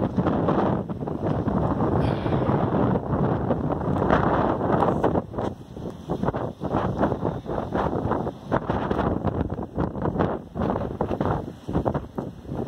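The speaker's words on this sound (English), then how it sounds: "Wind's still up and down. It was 32 a little while ago." Strong gusting wind buffets an anchored sailboat near shore at dawn, with steady loud rushing broken by rising and falling gusts and a rumble of wind across the microphone.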